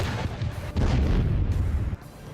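A Russian army artillery cannon fires a heavy, rumbling boom. The blast swells into a dense roar for over a second and then cuts off into a lower, noisy background.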